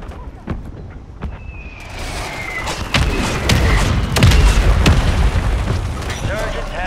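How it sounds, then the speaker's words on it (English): Mortar strikes land in Warzone 3 Resurgence as a string of heavy booms and thuds that swell into a sustained roaring barrage, loud and close, with a radio voice heard in the game. "Mortar strike on the way."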